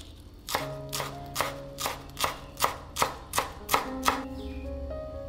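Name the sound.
chopping green onions with a knife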